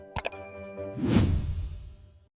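A bright bell-like ding rings twice in quick succession, followed by a soft whooshing swell that fades out.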